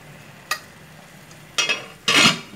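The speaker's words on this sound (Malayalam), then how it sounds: "പിന്നെ ഒന്ന് നമുക്ക് നല്ലതുപോലെ മിക്സ് ചെയ്യാം." Rice mixed with turmeric and garam masala powder is turned in a pot, and three short scraping strokes sound against a quiet background, with the last one longest and loudest.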